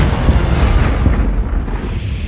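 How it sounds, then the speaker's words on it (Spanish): Heavy Peruvian cannon fire during a naval combat against a Spanish squadron, a loud continuous low rumble of booming shots layered together, dense and close with no pauses. "los cañones peruanos que aún estaban en funcionamiento dispararon los últimos cañonazos"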